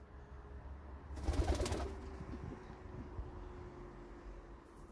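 Pigeons being fed grain in winter coo softly at close range, with a brief burst of rustling or flapping early on, then quieter low calls over faint background hum.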